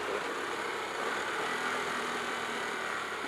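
A Harley-Davidson Pan America Special motorcycle engine runs at a steady low rumble while the bike is being ridden, a continuous mid-level drone with wind and road noise mixed in and no speech.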